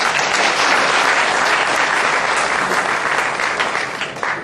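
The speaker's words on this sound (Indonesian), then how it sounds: "Tepuk tangan." Sustained audience applause fills a hall after an Indonesian film actor, Rano Karno, is introduced at a formal event, dense steady clapping holding strong throughout and easing only slightly at the end.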